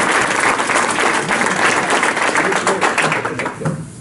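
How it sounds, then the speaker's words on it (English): Audience applause fills a sales talk venue, a dense steady wash of clapping from a crowd that carries on throughout and tapers off slightly at the end. "Let's give her a quick round of applause."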